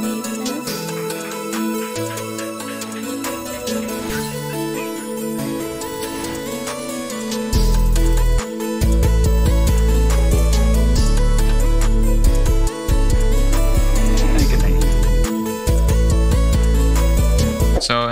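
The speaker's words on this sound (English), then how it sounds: "today I'm going to show you how to make a Pluggnb beat that sounds like this" A Pluggnb hip-hop beat in an autumn-toned, cute style: soft, bright melodic synths loop alone for several seconds, then heavy booming 808 bass and drums drop in, with brief cutouts before the groove resumes loudly.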